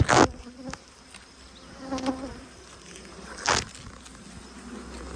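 Buzzing honey bees close by at an open hive, with a few louder bursts as bees pass near, over a quiet background hum.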